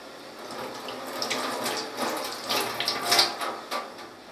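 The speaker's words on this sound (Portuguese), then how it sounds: "Deixa eu só lavar minhas mãos." Hands are washed under a running kitchen tap, a steady close hiss of flowing water with small splashy bursts as the hands move through the stream.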